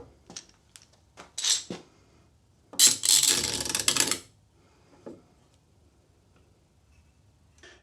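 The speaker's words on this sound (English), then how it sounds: "then I'll clamp it up and leave it to set overnight" Clamps are ratcheted down on a thin plywood glue-up in a workshop. Several quick clicks come first, then a longer rasping ratchet burst, followed by a faint knock, close and with no talking.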